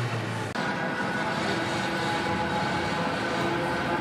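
A Manchester Metrolink tram passes on a city street, a loud continuous rolling rumble and hum that starts abruptly and holds steady, with no talking.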